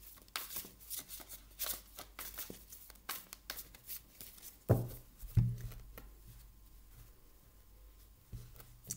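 Tarot cards are shuffled for a reading in a quiet room, a run of soft riffling and flicking bursts with a couple of sharper taps partway through, close and fairly faint with no talking.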